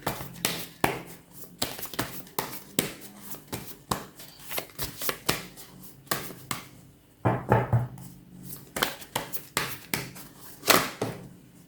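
Oracle cards being shuffled and drawn for a three-card reading, heard as a string of sharp, close riffling flicks and taps in irregular bursts, with a brief pause partway through.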